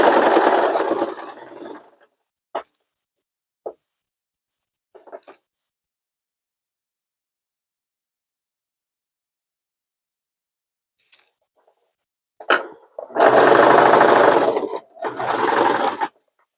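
A sewing machine stitches the hem of pajama trousers in short bursts: a whirring run at the start, scattered clicks and brief taps, then two longer stitching runs near the end, with silence between.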